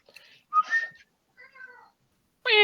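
Several short meows from a cat close by, separated by silent gaps, ending with a louder, drawn-out meow.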